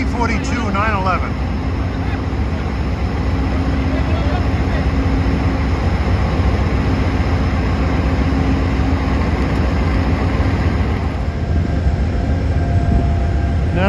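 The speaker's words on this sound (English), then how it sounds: "Via Rail P42 911" Via Rail P42 locomotive 911 rolling past on the CN Kingston Subdivision, a steady loud rumble of engine and wheels filling the whole stretch, with a voice talking briefly near the start.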